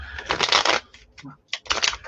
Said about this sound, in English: So I just normally poker shuffle mine.